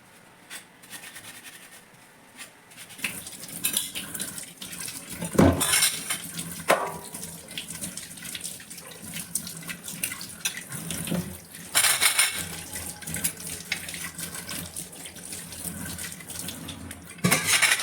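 Water runs from a tap into a sink while gas stove grates and burner stands are washed, with intermittent clanks and scrapes of metal against the basin over a steady splashing flow.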